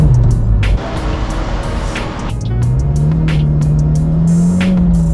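A 2008 Mitsubishi Lancer Evo X with solid motor mounts starts and idles loudly nearby, a deep steady engine drone that dips briefly and then settles into a rising, rough idle.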